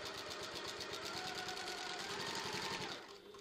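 Close, steady whirring and rapid needle chatter of a sewing machine stitching a tote bag seam, running evenly for about three seconds before winding down to a stop.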